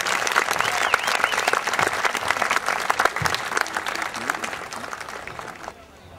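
An audience at a Swedish folk music gathering in Rättvik claps steadily in dense, sustained applause that tapers off toward the end.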